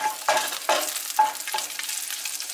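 Sausages frying in olive oil are stirred in the pan, heard as four quick scraping strokes over a steady close sizzle, with no talk.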